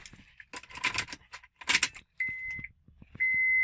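Keys jangle on a ring as a key goes into the ignition of a Honda Accord, with a couple of clinks and rattles close by, then steady electronic chime tones from the car.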